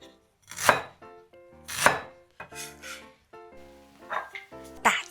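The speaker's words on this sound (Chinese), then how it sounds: "切姜。" Ginger being chopped with a knife on a board, four or five loud, distinct thuds spaced roughly a second apart with quieter knocks between them, heard up close with a voice talking between the cuts.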